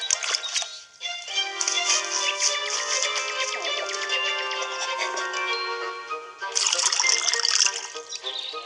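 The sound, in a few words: water being poured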